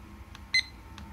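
Taffware TS-S60-W LED digital desk clock giving short electronic beeps while the alarm is set: a couple of faint blips followed by two louder, crisp beeps, close and with no talking.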